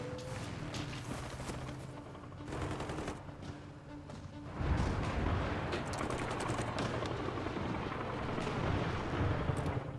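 Artillery fire in the strategy video game Hearts of Iron IV: a dense, continuous barrage of booming shots and rumbling blasts, steady at first and growing louder and fuller halfway through, with no talk.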